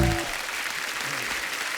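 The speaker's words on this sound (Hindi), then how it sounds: "राज साहब के लिए जोरदार तालियां होनी चाहिए यार" Audience applause breaks out for Raj Kapoor on a Hindi TV show, a dense continuous clatter of many hands clapping at even loudness, with a brief tone fading at the very start.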